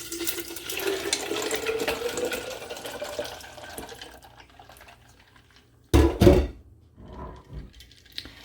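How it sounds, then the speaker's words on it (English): Tea tanning solution for fish leather is poured into a container holding ice cubes: a close, splashy liquid pour that tapers off over several seconds, then a couple of brief clunks and knocks before quiet. "So I'm going to pour my solution into here."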